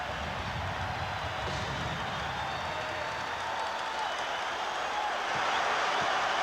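Basketball arena crowd in a Bulls vs Magic playoff game razzing a player after a missed free throw, a dense sustained roar of many voices swelling slightly toward the end.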